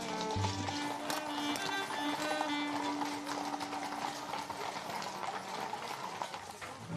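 Many horses' hooves clatter in a large group of around 150 to 160 horses, a busy overlapping clip-clop at moderate distance with faint tonal sounds mixed in.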